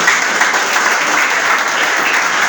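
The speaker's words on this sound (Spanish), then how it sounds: "¿Cuánto dan un aplauso a Jesucristo?" A church congregation claps in praise of Jesus Christ, loud, dense and sustained applause from many hands throughout.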